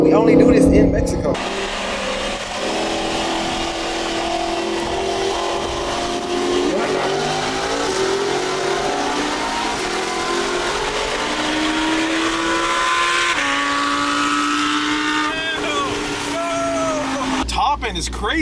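Mercedes-AMG and Lamborghini cars race each other on a street in Mexico, their engines loud and close as they rev hard and rise steadily in pitch through a long, continuous acceleration.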